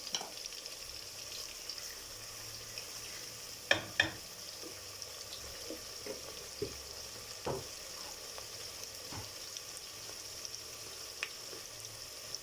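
Whole cumin seeds fry with onions in oil, a quiet steady sizzle broken by scattered crackles and pops, with a couple of louder clinks partway through.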